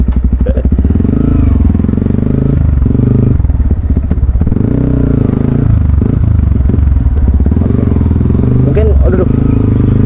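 A Yamaha WR 155 motorcycle idles with a low, throbbing engine rumble and a few slight revs, heard close while people talk loudly over it.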